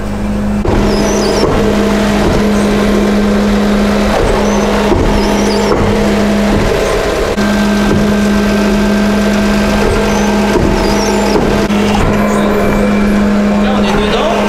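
A Scania R500 truck engine idles steadily with a constant low hum and mechanical clatter while its moving floor unloads, a steady tone running underneath; voices talk briefly over it.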